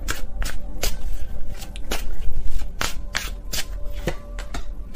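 Tarot cards being shuffled by hand, a steady run of crisp riffling and flicking bursts that carries on without a break, close and fairly loud, with no talking.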